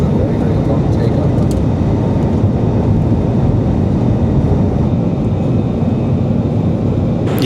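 Loud, steady broadband roar inside the cabin of an EasyJet airliner just after takeoff, a constant engine and airflow drone with faint voices underneath.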